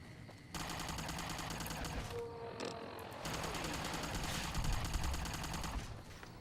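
Rapid automatic gunfire in Fallout: New Vegas, dense sustained bursts with a brief lull, loud and continuous across the whole stretch.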